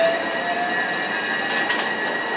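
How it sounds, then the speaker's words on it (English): A train rolls past after coming out of the wash, a steady broadband rumble with a high sustained whine throughout, close and continuous, with no voices. "it looks like the train's just come out of the wash"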